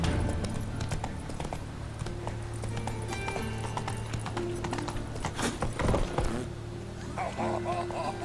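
Geralt's horse Roach clip-clops through a Witcher 3 game town, steady hoofbeats on hard ground with a brief whinny, heard under game music and someone talking.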